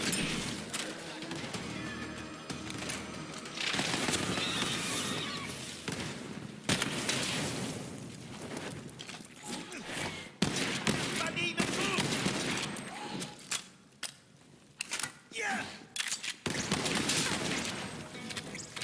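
Weapon fire in Borderlands 3 comes in dense bursts of shots, loud and close, with pauses and thumps between volleys amid game effects.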